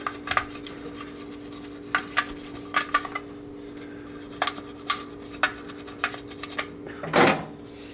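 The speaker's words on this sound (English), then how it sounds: "Get any black spots on there, you got to brush them out." Scattered scraping and light clinking strokes, brushing black spots out of a hummingbird feeder, with short rubbing bursts at an uneven pace and a louder scrub near the end.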